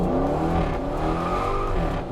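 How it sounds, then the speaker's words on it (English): A 2019 Dodge Challenger SRT Hellcat Redeye launching on a track, a loud heavy engine roar rising in pitch as it accelerates hard, continuous and close throughout. "Launch control on, left foot on the brake, right foot on the gas, go."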